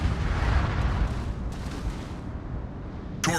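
Heavy naval gunfire from an enemy battleship in World of Warships, a deep rolling boom rumbling low and loud throughout, with a brief sharp crack near the end.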